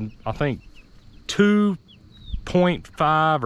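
Chickens clucking in a coop, several loud, close bursts of squawking clucks separated by short gaps, with a person speaking briefly between them.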